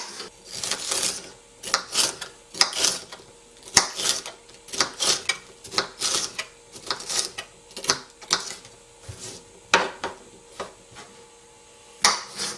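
Fresh garden peppers chopped with a knife, giving a steady series of crisp cutting thuds on a board, about two per second, close and fairly loud with no talking.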